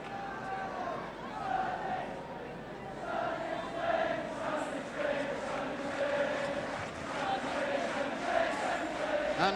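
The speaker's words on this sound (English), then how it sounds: "the Welsh crowd can start to chant sunny Spain, sunny Spain" A Welsh football crowd in a packed stadium at a 1982 World Cup qualifier against Iceland, a broad rolling roar of chanting voices rising and falling in waves, distant and continuous, with a commentator talking over it.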